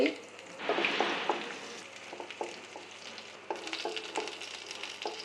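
Garlic, onion and two dried chillies fry in mustard oil with a soft, continuous sizzle. A utensil scrapes and taps the pan at an uneven pace, heard up close at low volume and without speech.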